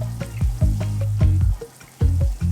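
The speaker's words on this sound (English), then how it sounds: "And then we're ready to fry." Schnitzel deep fries in oil at 350 Fahrenheit, a close, loud sizzle with repeated bubbling bursts and a short lull near the end.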